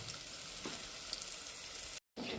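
Whole spices fry in hot oil in a pan, a steady, quiet sizzle that holds throughout and cuts out briefly near the end.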